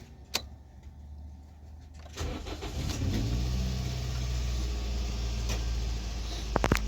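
A Toyota Corolla engine, checked after oxygen sensor work, is cranked briefly and catches, then settles into a steady, fairly high idle close by with a few light clicks.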